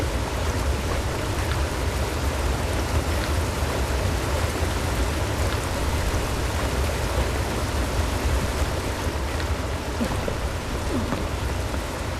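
Waterfall in the video game Creatures of Ava, a steady broadband rush of falling water that holds even and continuous for the whole stretch, with no voices over it.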